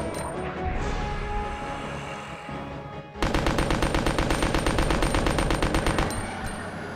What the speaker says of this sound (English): This submachine gun is useless.